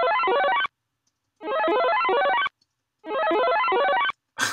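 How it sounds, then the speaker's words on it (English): A synthesized Mario Brothers-style power-up jingle plays three times, each burst about a second of rapidly stepping rising electronic tones, separated by silent gaps, with a short fragment starting at the end. "I'm going to generate a sound that kind of sounds like this Mario Brothers power up."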